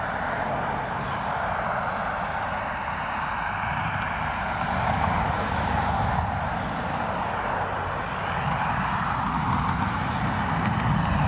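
A British Airways Embraer arriving from London City at Dublin Airport gives off a sustained broadband jet roar. It stays loud and fairly even at middle distance, with no speech.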